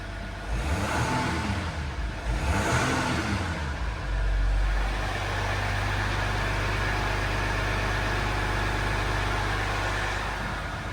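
A cold Jeep Grand Cherokee engine settling from its start into a steady idle, with a couple of early surges before a constant low, even drone holds close by to the end; nobody speaks.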